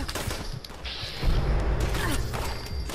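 Robots' guns firing in the video game Fallout 76: dense, rattling bursts of automatic gunfire with mechanical clanks and whooshes, loud and close, continuing throughout.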